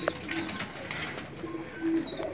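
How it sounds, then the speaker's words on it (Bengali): Madrasi pigeons and their chicks coo softly in a loft, with low repeated coos and occasional small chirps over a steady background hiss. "এই দেখুন আমার ঘরের পায়রা বাচ্চা"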